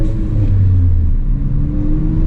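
A car engine revs during a manual downshift, a loud, steady mid-pitched drone with a slight rise and fall in pitch, heard up close without talking.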